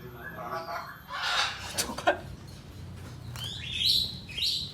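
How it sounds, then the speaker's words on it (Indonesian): Red-eyed ara bird song, recorded for use as training song for magpie robins: bright chirps and whistled phrases, fairly near, with a voice speaking over part of it. "Ini burung ara mata merah."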